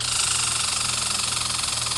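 Tractor and combine harvester engines in the Indian Vehicle Simulator 3D farming game chug with a loud, steady, rapid mechanical knock while wheat is loaded into a trolley, with no talk over it.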